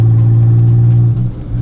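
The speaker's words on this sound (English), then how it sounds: "This one opens the exhaust." Turbocharged V6 Toyota Camry with its exhaust valve open gives a loud, deep, steady idle drone with a brief dip near the end, heard close and without talk.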